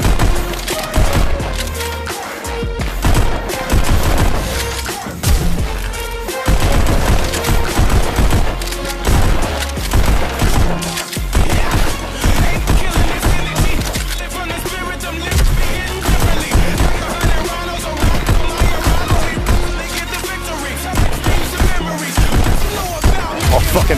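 Gunfire from the VR rhythm shooter Pistol Whip on a Meta Quest 3: rapid, repeated shots punch through loud, continuous driving electronic music for the whole stretch.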